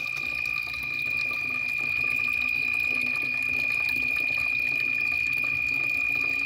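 A waterfall at night pours in a steady, continuous rush of flowing water, with a constant thin high whine running above it and no voices.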